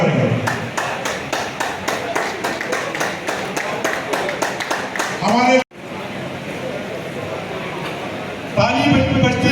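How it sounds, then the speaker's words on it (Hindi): Applause from an audience at the fifth foundation day ceremony of the Jharkhand Pradesh Vaishya Morcha: steady, rhythmic clapping beneath a loud amplified voice, cutting off abruptly partway through before hall murmur and talk continue. "ताली बजती रहनी चाहिए"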